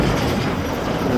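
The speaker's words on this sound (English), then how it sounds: "we got the eastbound shop train here" An eastbound freight train rolls through a rail yard, a close, steady rumble of wheels and cars with a continuous broadband roar and no voices.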